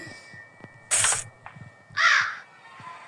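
A crow in the video game Granny gives two loud, harsh caws about a second apart over a quiet background of faint clicks and taps.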